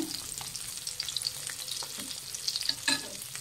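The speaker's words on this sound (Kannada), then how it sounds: "ಫ್ರೆಂಡ್ಸ್, 2 ಕಡೆನೂ ಬೇಯಿಸಬೇಕು ಮೊಟ್ಟೆನ." An egg fries in a pan while it is stirred and cooked on both sides, giving a soft, steady sizzle with small crackles and scraping stir sounds, close and quiet.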